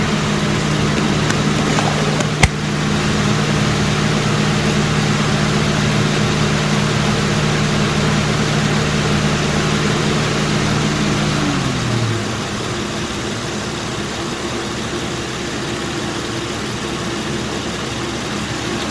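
A 2007 Honda Pilot engine idles steadily up close, a continuous low hum with a faint tick near the start, then drops to a quieter, lower idle partway through, with no talk.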